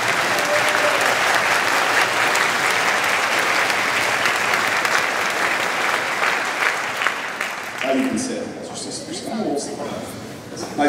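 An audience at a middle school honor band concert applauds the students' parents, a dense sustained wash of many hands clapping that thins and fades toward the end as a voice starts speaking.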